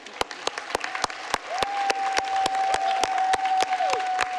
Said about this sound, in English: So just another big round of applause